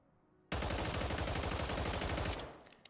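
Core 45 pistol fitted with a conversion kit firing in Call of Duty, a loud unbroken stream of rapid shots lasting about two seconds before cutting off, with nothing else around it.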